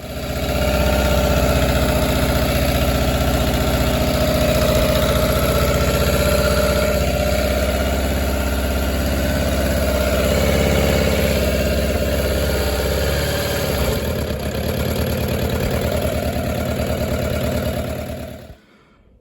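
A 2006 Suzuki GSX600F motorcycle engine idles steadily and loud at close range with a constant low, smooth drone, ending abruptly near the end.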